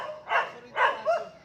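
Three sharp dog barks close by from a dog kennel, evenly spaced within a second and a half, with no talking.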